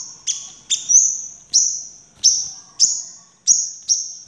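Caged sunbird singing after feeding: a series of about eight sharp, high chirps spaced roughly half a second apart, clear and close, with no other sound around them.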